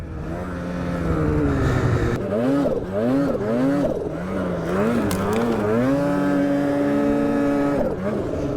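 A 2022 Polaris RMK Matryx Boost turbo snowmobile engine revving and accelerating hard, its pitch rising and falling in repeated surges before settling into a steady high whine, loud and up close.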